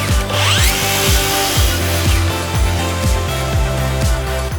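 A power tool cuts through a 5.5mm plywood backing layer, loud and close, with a running motor broken by a steady series of rhythmic thumping strokes.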